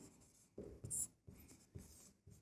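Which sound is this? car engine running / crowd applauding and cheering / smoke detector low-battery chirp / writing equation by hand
writing equation by hand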